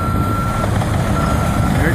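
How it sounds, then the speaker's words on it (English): A bulldozer working alongside a dump truck and backhoe, its steady reversing beeps sounding as a continuous tone over constant heavy engine rumble, with a person talking nearby. "Oh, there goes the bulldozer."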